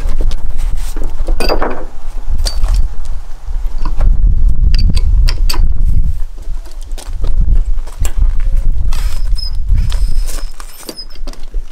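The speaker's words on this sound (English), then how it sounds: "Break the bead on both sides." Tractor tire bead being broken on a Harbor Freight mini tire changer, heavy thuds, creaks and knocking clunks repeating at close range across several seconds, with no talking.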